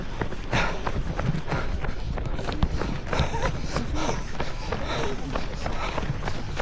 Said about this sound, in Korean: 뛰는데 발소리밖에 안 나는 것 같아 진짜